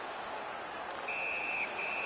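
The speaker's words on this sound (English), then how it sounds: "Puck covered, whistle blown." A referee's whistle blows in the NHL 17 hockey video game, a thin sustained tone over steady crowd noise, sounding in two bursts with a short break between.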